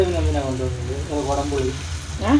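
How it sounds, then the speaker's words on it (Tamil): Tomatoes sautéing in a pan for a fish curry, giving a steady soft sizzle and frying hiss beneath a voice talking throughout. "இப்போ பாருங்கள் நல்லா வதங்கிடுச்சு தக்காளி"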